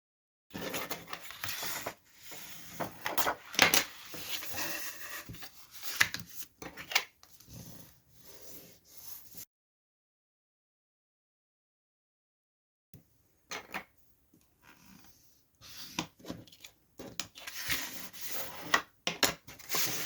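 Paper being scored and folded by hand to form an envelope, giving soft rubbing and creasing scrapes in irregular bursts, close and fairly quiet, with a silent gap in the middle.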